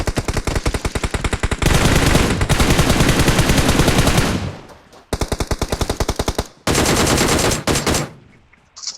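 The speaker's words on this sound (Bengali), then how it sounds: "কোথা গুলি চালাচ্ছে" Machine gun fire in the mobile shooter BGMI comes in rapid loud bursts, with short gaps between strings of shots and one long sustained volley.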